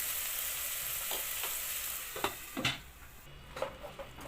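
Sausage filling with paprika and chopped capsicum fries in a pan at reduced heat, a steady soft sizzle with a few stirring scrapes and clicks near the end.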